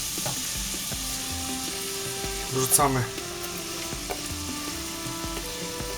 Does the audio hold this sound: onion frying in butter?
yes